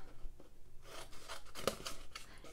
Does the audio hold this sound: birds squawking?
no